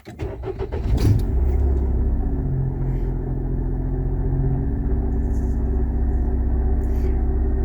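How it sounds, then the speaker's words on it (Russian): A small Japanese kei car with 95,000 km on it cranks and catches at about one second, then settles into a steady, close, even engine idle rumble with no talking. "Давайте сейчас заведем наш автомобиль."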